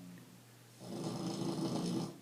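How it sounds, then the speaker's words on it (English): A dog snores loudly after returning from a trip to the mall, a short quiet lead-in giving way to a rough, rumbling snore that swells and holds close by, with no talking. "Have you ever heard a dog snore as loud as that?"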